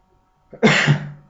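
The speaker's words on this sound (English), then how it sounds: "So that's why I'm coughing all the time, not that I'm sick." A single short, sharp cough burst, close and fairly loud, rising abruptly from near silence and tailing off within about half a second.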